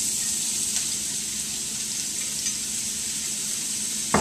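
Onion and mushrooms sautéing in olive oil in a skillet alongside seared meat, a steady close sizzle and crackle with a faint low hum underneath and no talking.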